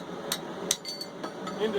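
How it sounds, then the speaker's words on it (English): A metal chisel is hammered down into the gap of a press being converted into a treadle hammer. Several sharp metallic strikes land at irregular intervals, close and moderately loud, over a noisy workshop background. "getting my center, or my chisel, and hammering it down into the"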